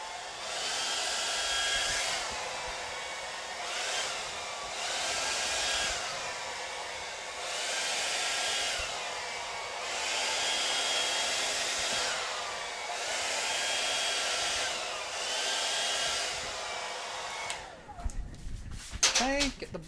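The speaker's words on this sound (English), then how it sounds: "Okay, get the blower, the mini blower." A mini blower drying black paint on a taped art piece runs in repeated bursts of airy whooshing, shifting from low to high speed, with pauses between passes and handling clatter near the end.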